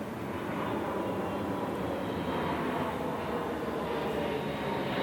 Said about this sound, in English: There's a massive plane above me right now.